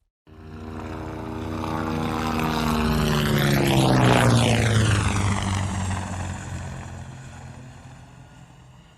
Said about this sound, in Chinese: 那么这个就是直升机我们在电影当中能听到的一些音效